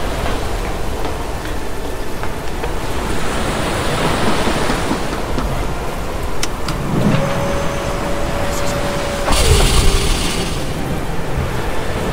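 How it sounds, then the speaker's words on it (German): Huge ocean waves surging and crashing in a radio play's lighthouse storm scene, a loud, continuous roar of surf with a heavier swell near the end and no voices. "Die Wellen! Sie sind riesig."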